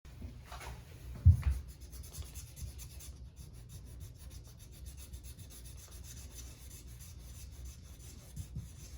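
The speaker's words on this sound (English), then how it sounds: "I'm using this rougher sandpaper" Rough sandpaper rubs over a bathtub chip repair in a faint, continuous scratchy rasp, with one brief louder knock near the start.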